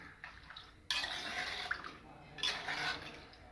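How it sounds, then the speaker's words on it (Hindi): Garlic, ginger and other ingredients are stirred together in a cooking pot, giving a near, steady wet scraping and clinking with two louder bursts of mixing and no talk. "अब इसको थोड़ा सा मैं मिक्स कर लूँगी।"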